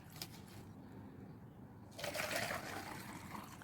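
Water pours into a cup, filling it nearly full while regrowing vegetables from their roots, a steady splashing rush that starts after a quieter, noisy stretch and continues to the end.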